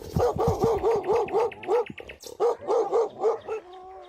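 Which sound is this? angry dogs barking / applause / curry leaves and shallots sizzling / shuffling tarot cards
angry dogs barking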